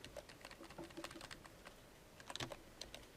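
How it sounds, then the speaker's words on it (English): Rapid clicks of a computer keyboard as number keys are tapped while the Alt key is held down, a quiet, close burst of uneven keystrokes with a short pause, then a few more taps. "I'm holding the Alt key, I'm typing 3 numbers, and then I'm letting up"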